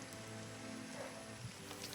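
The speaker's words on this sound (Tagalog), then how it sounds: "Sobrang ulan pa rin oh." Heavy rain falls steadily on surfaces outdoors, a soft, continuous hiss of drops with no voices, heard quietly for a couple of seconds.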